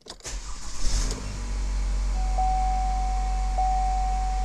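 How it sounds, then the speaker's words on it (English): Car engine starting: a brief cranking burst settles into a steady idle hum, with a faint electronic tone from the OBD2 scanner setup joining partway through. "So I'm gonna just turn the car on."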